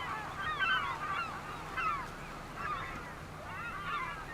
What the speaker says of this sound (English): And noisy seagulls.